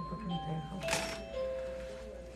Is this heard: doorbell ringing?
yes